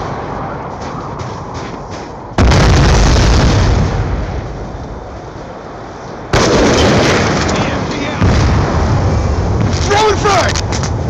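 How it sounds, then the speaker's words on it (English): Grenade blasts in a first-person shooter, with two loud, abrupt booms, each trailing into a long rumbling roar, as shouted callouts and other game noise sound around them. "Throwing frag! Throwing grenade!"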